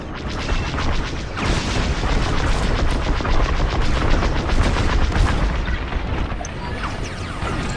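Rapid blaster gunfire in the Star Wars Squadrons space combat game, dense repeated loud bursts over a continuous roaring background, mostly steady with brief gaps.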